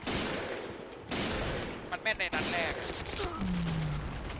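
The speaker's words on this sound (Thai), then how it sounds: "M4 เวลาคลิกขวายิงแล้วมันขัดใจยิงนะมันยิงช้านะ" Burst-fire M4A1 rifle shots in the shooter game Point Blank, dense crackling volleys under a busy game mix, with one brief gap before firing resumes.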